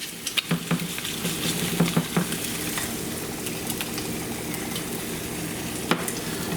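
Eggs frying over easy in a pan, a steady close hiss and sizzle throughout with a few light taps and scrapes of a utensil early on.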